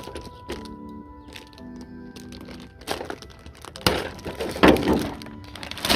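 Plastic packaging crinkles and crackles close by as wrapping tools are unwrapped, starting with light rustles and building to louder crunching tears toward the end.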